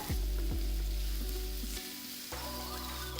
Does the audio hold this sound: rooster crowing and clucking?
no